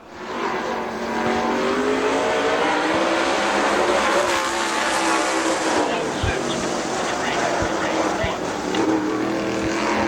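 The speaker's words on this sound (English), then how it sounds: "Now on the clock, car number 20, Chris Sizemore, Canton, Georgia." A race car on a qualifying lap at Dixie Speedway roars steadily at high revs as it passes, loud and sustained, with a faint crowd or announcer murmur beneath.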